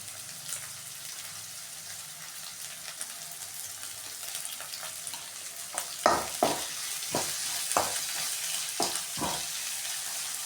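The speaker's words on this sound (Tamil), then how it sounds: "இப்போ நம்ம கட் பண்ணி வச்சோம்ல அந்த வெங்காயத்தெல்லாம் போட்டு நல்லா வதக்கிக்கலாம்." Sliced onions with salt sauté in a pan for an egg gravy, a steady sizzle broken by a cluster of loud scraping stir strokes toward the end.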